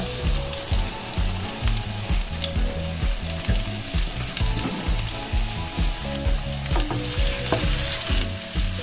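Coarsely chopped shallots and garlic sauté in a pan, a loud, steady sizzle of frying broken by repeated scraping stirs, with no talking.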